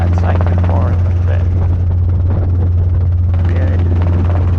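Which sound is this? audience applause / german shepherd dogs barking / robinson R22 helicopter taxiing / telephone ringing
robinson R22 helicopter taxiing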